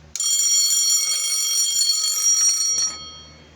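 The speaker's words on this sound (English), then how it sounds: "Congratulations, you got your fire alarm installed." A newly installed fire alarm blares a loud, piercing continuous tone for about three seconds, then cuts off and fades.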